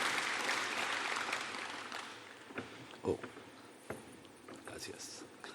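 An audience at a theology conference session claps in a dense burst that fades out over a few seconds, leaving scattered single claps, with a voice speaking Spanish over it.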